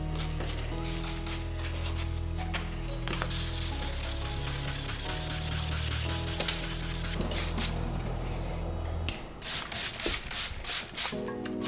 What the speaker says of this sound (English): We're gonna go ahead and hit this area, sand it down